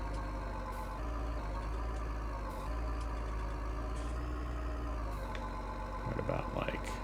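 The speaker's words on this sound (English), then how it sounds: "Great sound on this tractor too." A tractor engine idles with a steady low rumble in the farming game Farming Simulator 19, continuous at close range, with faint clicks and a brief rattle near the end.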